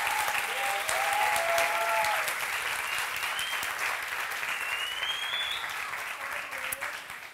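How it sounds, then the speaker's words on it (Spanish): An audience at a talk in Covadonga, Asturias, claps for a speaker, a sustained dense round of applause that tapers slightly toward the end, with faint voices mixed in. "Un aplauso para ella."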